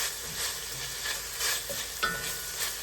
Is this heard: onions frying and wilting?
yes